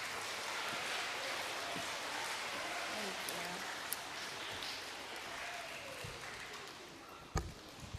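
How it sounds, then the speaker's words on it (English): Quiet, distant round of applause from an audience at a school author showcase, sustained hand clapping with a few sharper claps near the end and a murmur of voices beneath. "Let's give them a nice round of applause"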